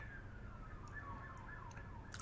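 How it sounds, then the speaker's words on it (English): A siren wails in the distance, its tone sweeping down and rising again over steady low traffic rumble, with no one speaking. "Pardon the sirens."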